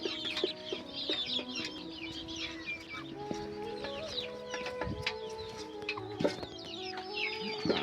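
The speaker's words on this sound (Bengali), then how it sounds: "এই হচ্ছে মুরগি" Village chickens cluck and call repeatedly at close range in a rural Bangladeshi homestead, with overlapping bird voices and no talking.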